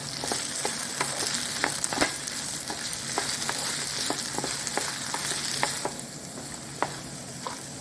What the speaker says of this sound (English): just keep mixing until they're fried and they're ready to eat